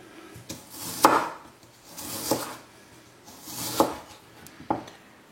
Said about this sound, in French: Et donc le morceau de gingembre. On va venir couper une petite tranche comme ceci.